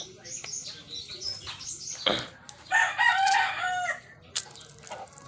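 Fighting roosters crow nearby, several overlapping calls with some clucking in between, in a lively outdoor yard.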